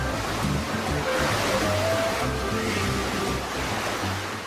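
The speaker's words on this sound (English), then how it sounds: "A computer-controlled system produces cookie-cutter waves big enough to surf on." Machine-made surf waves in the indoor Ocean Dome pool, with chlorinated salt-free water, roll and wash in a broad continuous roar, full and fairly loud, with no talk over it.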